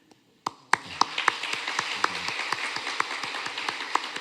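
A church congregation claps to welcome visiting guests, starting with a few scattered claps, then settling into steady, moderate applause heard from within the sanctuary.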